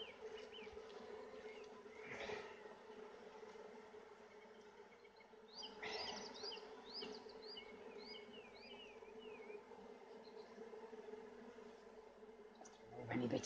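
Honey bees in an Irish hive buzz in a continuous faint drone, close and steady, with occasional bee passes and some quiet handling noise.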